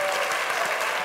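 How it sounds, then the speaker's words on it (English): Studio audience on a talk show applauding for Vinny Pastore, a loud, even burst of many hands clapping together with no break. "Big round of applause for Vinny"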